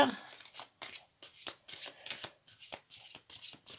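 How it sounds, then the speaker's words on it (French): Tarot cards being shuffled before a draw, a run of quick riffling and flicking bursts, close and fairly quiet, with no talk over them. "Un petit échauffement des cartes. Avant le tirage."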